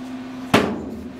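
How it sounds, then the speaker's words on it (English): A single sharp, loud whack of a sheet metal hammer striking metal on a classic truck's body rings briefly over a steady low hum. "I started whacking on it with my sheet metal hammer"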